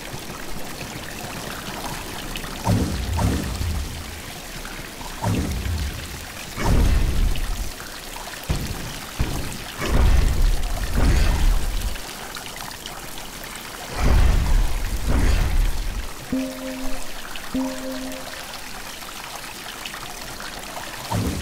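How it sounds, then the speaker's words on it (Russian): Water gushing and splashing in bursts in the game Salt and Sanctuary, several loud surges of flow separated by quieter trickling, with a couple of short electronic tones near the end. "А почему вода течет вверх?"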